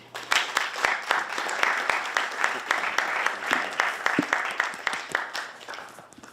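An audience at an engineering business conference applauds to welcome a speaker, a dense steady clapping that swells and then tapers off.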